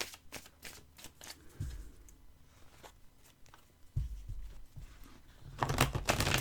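Oracle cards shuffled by hand in rapid riffling bursts, with soft flicks and slides as cards are drawn, close and fairly quiet, and a louder shuffle at the end.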